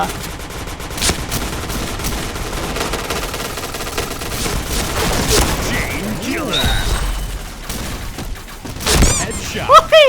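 Rapid bursts of gunfire from the Thai online shooter Point Blank, a close-range automatic weapon rattling in uneven volleys over busy game noise, with players talking excitedly throughout.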